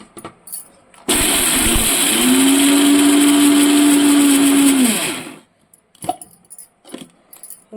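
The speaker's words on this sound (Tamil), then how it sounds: "இதை வந்துட்டு நல்லா ஸ்மூத் பேஸ்ட்டாக நம்ம அரைச்சிக்கலாம்" A mixer grinder whirs loudly for about four seconds as it grinds betel leaf, fennel and sugar into a smooth paste, with a steady motor whine that starts abruptly and stops. Light clatter follows.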